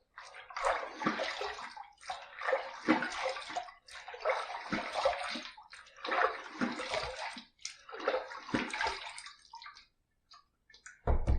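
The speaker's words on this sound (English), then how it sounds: "All right, let's rinse." Water splashes and pours in five or six bursts while shave soap lather is rinsed away, each rush of running water separated by brief pauses, close and fairly loud, ending with a couple of faint drips and a final splash.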